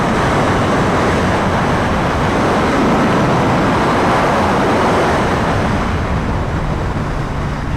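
A 2025 Ducati Panigale V4 motorcycle pulls hard in sixth gear, heard as a loud, dense roar of engine and rushing wind that holds steady and eases slightly near the end.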